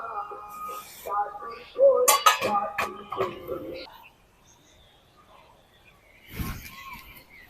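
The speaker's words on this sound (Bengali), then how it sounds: "এই যে এইভাবে কেটে নেবো এক সমান করে" A knife cuts ash gourd into even pieces, with a run of sharp clicks and taps against a board and dish, then a pause and one more cluster of cuts; a voice briefly speaks.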